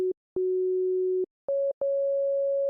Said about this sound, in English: So just a basic sine wave